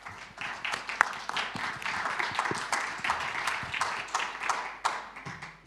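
Moderate applause from a food tech congress audience welcoming panel speakers, many hands clapping in a fairly even, unhurried patter at medium distance.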